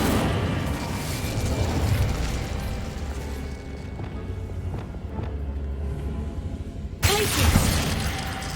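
In Hogwarts Legacy, a fire spell gives a steady roaring, crackling rush of flame that holds for several seconds, then ends in a sharper burst near the end.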